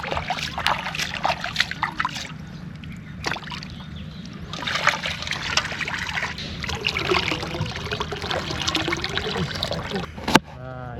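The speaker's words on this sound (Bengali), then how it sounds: "এখন এগুলো আমরা পুকুরের পানি দিয়ে ভালোভাবে ধুয়ে নেব" Freshly cut ingredients for beef khichuri are rinsed in an outdoor village pond, with repeated splashes, trickling water and sloshing up close. The bursts are irregular, ending with a sharp splash.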